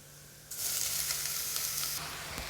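Washed goat intestines go into browned fried onions in a pan, setting off a sudden loud, bright sizzle that holds steady for a moment before easing slightly.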